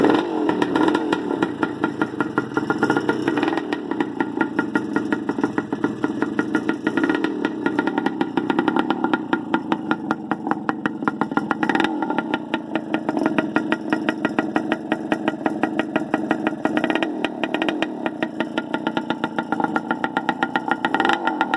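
A 1973 Hodaka Dirt Squirt dirt bike engine runs steadily for the whole stretch, a close, buzzing idle with a rapid, even putter and slight revving variations.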